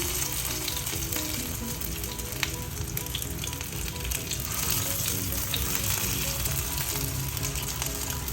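Corn malai kebabs fry in a pan over medium heat, giving a steady, dense sizzle throughout, with a few faint utensil clicks.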